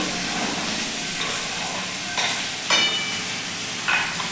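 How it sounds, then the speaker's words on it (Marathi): Onion, ginger, garlic and green chili sautéing in hot oil over a high flame, a soft continuous sizzle with occasional stirring scrapes and clinks of a spoon against the pan, heard up close without talk. "आणि फास्ट गॅसवरती आपल्याला आहे एक दोन मिनिट साधारणतः परतून घ्यायचा आपला कांदा"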